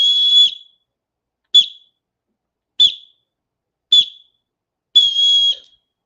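A whistle-like pure tone used for auditory training sounds five times, long first and last with three short bursts between, clear and steady with silence in the gaps.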